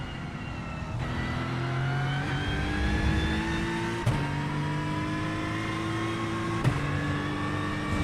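LMP2 prototype race car engine in an IMSA racing video game, a loud, steady high-pitched drone that climbs in pitch, with brief drops at gear shifts, no talk.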